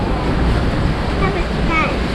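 Strong wind buffets the microphone during car camping in Tuba, Benguet, a loud, steady roar of gusts filling the whole stretch without letup.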